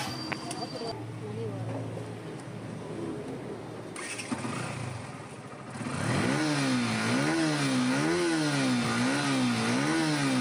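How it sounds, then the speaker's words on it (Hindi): Yamaha FZ motorcycle engine running after a carburetor cleaning, idling low at first, then revved repeatedly in steady rising and falling waves, loud and close, with someone talking over the early part. "देखिए बाइक स्टार्ट हो चुकी है, फर्स्ट क्लास है, कोई दिक्कत नहीं है, बढ़िया चल रही है"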